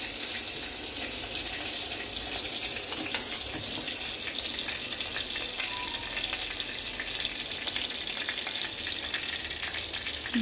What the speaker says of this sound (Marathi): तेल गरम झालं. त्यात आपण राई घालायची.